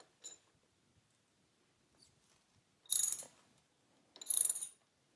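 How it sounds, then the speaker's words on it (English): A socket ratchet backing out 13 mm brake caliper bolts on a Royal Enfield Interceptor 650, heard as a few short bursts of close metallic clicking separated by near silence. "To get the bolts out holding the brake caliper, you can use a size 13 socket."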